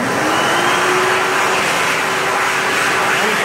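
A 2018 Excel Dryer Xlerator hand dryer at a Target store in Grafton, Wisconsin, runs with a loud, steady, close-up blast of rushing air and a faint constant whine.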